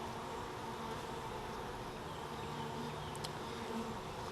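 Honey bees buzz steadily on a hive frame holding newly hatched bees, honey and pollen stores, a dense close hum with no talk over it.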